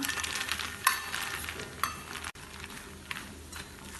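Lotus seeds roast in hot ghee while being stirred, a soft sizzle under a few distinct scraping strokes of the spoon against the pan, quiet and close.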